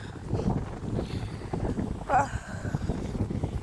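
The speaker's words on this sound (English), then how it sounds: "The wind's coming from the north, so it's hard." A north wind blowing outdoors at a fishing spot gives a steady, gusty low rumble that buffets the microphone throughout, with a brief stronger gust near the middle.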